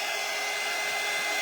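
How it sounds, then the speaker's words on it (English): Hair dryer blowing steadily on a DIY lamb prayer box craft, a constant loud whooshing roar with no pauses, up close and alone. "I'm going to hit this with the dryer."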